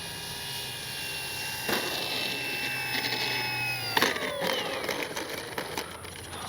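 An E-flite SNJ-5 Texan RC airplane drones steadily overhead, its electric motor whine holding a level pitch and then sliding downward as the plane passes and recedes, with no talk.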